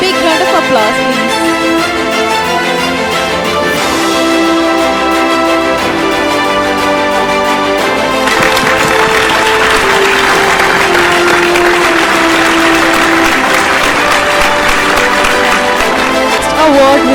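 An audience applauds an award winner at a scientific conference ceremony, with sustained, even clapping blended with background music that carries on throughout.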